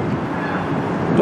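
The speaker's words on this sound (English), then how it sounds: "This train goes by now and then over there." Short Lake State Railway freight train led by locomotive LSR 1501, six cars including a tanker, passing along a Michigan waterfront, a steady rolling rumble of wheels heard at a distance outdoors.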